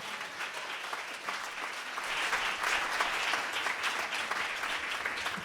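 Church congregation breaks into sustained, dense applause to acclaim God, the clapping swelling slightly louder midway and continuing steadily without speech.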